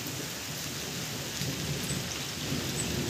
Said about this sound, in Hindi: हो गई है बरसात शुरू